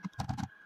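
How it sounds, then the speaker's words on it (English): A few quick clicks of keys on a computer keyboard, close and fairly quiet, over a steady low electrical hum. "Press the tab key at the keyboard,"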